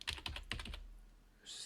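Quick keystrokes clatter on a computer keyboard in a short burst of about five taps, close and quiet, then a brief soft rustle.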